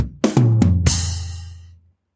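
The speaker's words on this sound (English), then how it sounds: "I'll play a little comedic drum interlude thing so you know the joke has finished" A quick drum fill of a few hits ends on a crashing cymbal that rings out and fades over about a second, with no talking.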